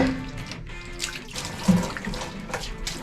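Clear spring water flows and splashes at a slippery mountain spring, a steady close-up gurgling trickle with small splashy surges, no voices heard over it.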